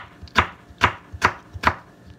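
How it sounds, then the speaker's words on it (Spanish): A knife chops through tomatoes, chili and onion on a board, four crisp evenly spaced strokes close by in a quiet kitchen with no talking. "Aquí estamos partiendo los tomates, el chile y la cebolla."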